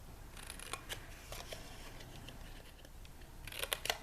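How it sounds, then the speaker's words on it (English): Scissors snip through scored cardstock while a small candy-holder box is being trimmed with darts, a series of quiet close cuts and crisp clusters toward the end, with no talking. "Let's trim out these little score lines here. We'll make little darts and remove the excess."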